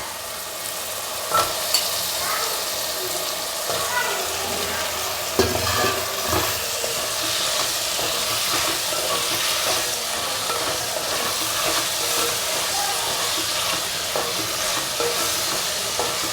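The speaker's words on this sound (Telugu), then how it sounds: "మునక్కాయ ఇప్పుడు నూనెలో వేసి బాగా వేయించితే" Eggplant and drumstick pieces fry in hot oil for sambar, a dense continuous sizzle up close with occasional stirring knocks and scrapes throughout.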